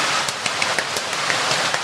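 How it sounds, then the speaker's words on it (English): Steady rain falls throughout, a dense even patter with a few louder drops standing out, fairly close and continuous with no voices over it. "Nothing, it's raining. It is raining indeed."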